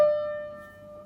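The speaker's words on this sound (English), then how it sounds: "you play the note above it, and you play the note down below it really quickly" A quick upper mordent on piano flicks to the note above and back, then one bright note rings out and slowly fades.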